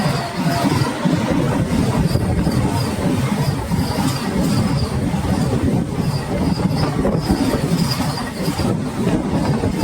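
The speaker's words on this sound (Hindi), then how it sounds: "और ये आ गई पटना हावड़ा वंदे भारत ओवरटेक करने के लिए।" Patna Howrah Vande Bharat train overtaking on an Indian rail line, a loud continuous rumble and clatter of wheels on track close by, steady throughout with faint squealing.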